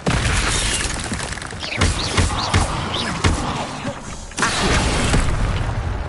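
Spell effects from the Hogwarts Legacy video game: a dense, continuous wash of magical whooshes, creaking mechanisms and booming bursts, loud throughout, with a brief dip near the middle before a fresh surge.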